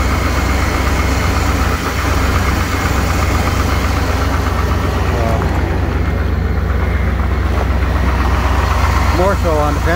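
A 1998 Chevrolet K1500 pickup idles on a cold start in freezing weather, its engine droning loud and steady with a fast rapping valve tick running through it, while someone talks over the noise.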